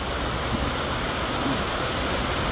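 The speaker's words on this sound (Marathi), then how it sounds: "खूप प्रचंड पाऊस आहे." Heavy rain pours steadily at a roadside eatery beside farm fields, a dense, unbroken hiss of falling water filling the whole stretch with no voices.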